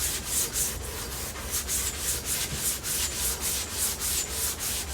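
Hand sanding body filler on a fiberglass 1932 Ford five-window coupe body makes a steady run of rhythmic scraping strokes, close and fairly loud, about two per second with no talk.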